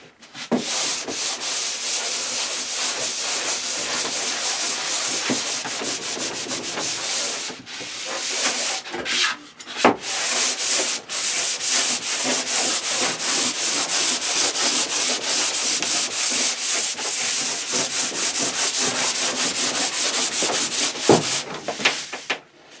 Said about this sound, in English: after I finish sanding this down and wiping it off, this will be the fourth and final coat on it